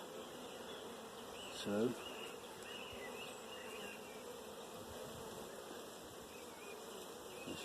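Honeybees buzz steadily around an open hive frame during a queen check at an apiary, a continuous close hum that holds throughout, with a brief louder burst near the start and a single short spoken word.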